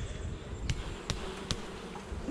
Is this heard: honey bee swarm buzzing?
yes